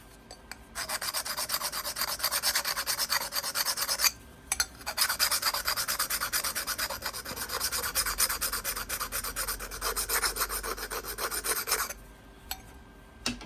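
A flattened, sharpened copper pipe notcher scrapes a very hard flint edge while an arrowhead is being worked, giving a steady, close gritty rasping that runs in long continuous strokes with a couple of brief pauses and no talk.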